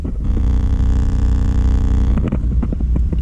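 A steady electronic hum with buzzing harmonics from a speaker tester drones through a Ford Mustang car speaker for about two seconds, then breaks into short crackly pops and clicks.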